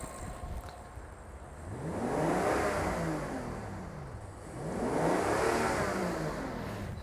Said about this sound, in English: But what will happen if I rev the engine?